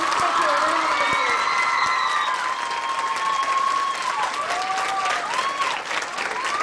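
A large audience at a school annual day event applauds in a dense, sustained roar of clapping that stays loud throughout. Scattered cheers and whoops rise above it.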